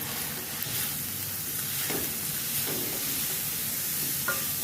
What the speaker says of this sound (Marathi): एक चमचा हळद घालूया छान असं परतून घेऊया